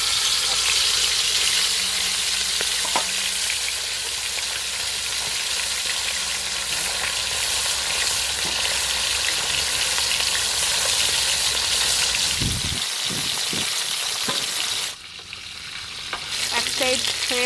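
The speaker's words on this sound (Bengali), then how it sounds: "তেলটা আমার গরম হয়ে গেছে। আমি তেলের মধ্যে একটু নুন দিয়ে দেবো যাতে মাছটা লেগে না যায়। মাছগুলো আমি এক একটা করে ছাড়ছি।" Fish pieces frying in hot salted oil give off a loud, steady sizzle and crackle, broken by a few sharp clunks and scraping knocks of a utensil near the end, with no talk.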